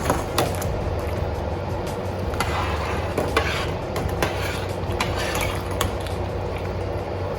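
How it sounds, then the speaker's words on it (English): Macaroni noodles are stirred in a pot on the stove, with a scraping, swishing rhythm of irregular clinks and scrapes over a constant low bubbling hum from the burner. "So you just wanna stir it initially for a little bit."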